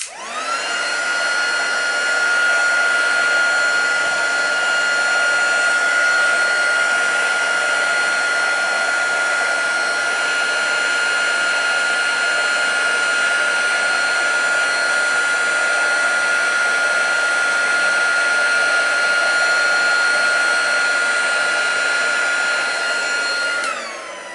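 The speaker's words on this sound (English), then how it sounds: "because my heat tool's heated up now, it's melting it quite quickly" Craft heat tool blowing hot air used for watercolouring, a steady loud whirring hiss with a constant high whine, running continuously and alone throughout.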